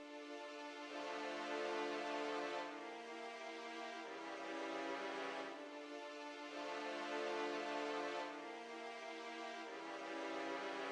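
Orchestral strings from a Kontakt library on its basic strings preset play a sustained chord pattern, swelling and changing chords roughly every few seconds, full and steady with no voices.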